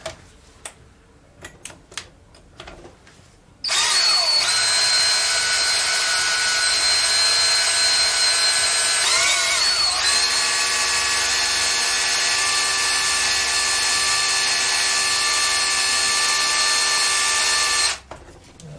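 A drill bores into metal with cutting oil during a hydraulic floor jack rebuild, a loud sustained whining grind that starts after a few clicks and runs steadily before stopping abruptly.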